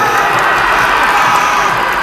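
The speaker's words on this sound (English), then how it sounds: "But if you guys think it was Foster, make some noise." Children cheering and yelling together at a school assembly, a dense continuous roar that is loud and close and stays steady for two seconds.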